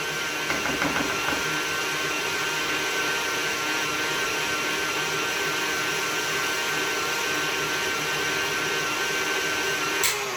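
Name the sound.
electric mixer beating butter into mashed potatoes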